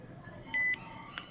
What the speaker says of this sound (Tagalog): pipindutin lang to, hold lang, tapos may maririnig kayong beep sound